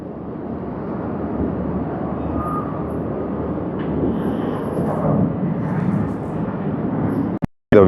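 A Lufthansa airliner at snowy Tokyo Haneda Airport, a steady broad jet roar that swells slightly and holds before cutting off abruptly at the end.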